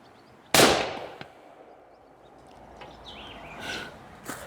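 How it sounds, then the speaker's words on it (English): A suppressed 300 Weatherby Magnum rifle fires once, a single sharp, loud report that decays over about half a second, followed by quieter outdoor background with faint bird calls. "First time with a 300 Weatherby mag."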